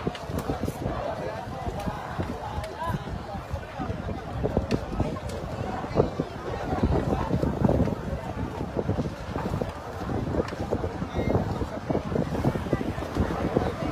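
Strong wind roars and buffets the microphone throughout a large house fire in a dense neighborhood of Dalahican, Cavite City, a steady gusty rush with people talking over it.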